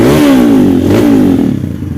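Kawasaki KLX motorcycle engine fires up loud and close, rising in a quick rev that dips and climbs again before settling into a rough, fading idle.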